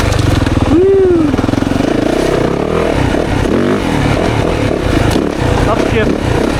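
A 2024 Yamaha YZ450FX dirt bike engine revs hard and continuously on a woods trail ride, close and loud, with rising and falling throttle surges and mechanical clatter, a rider's voice briefly over it.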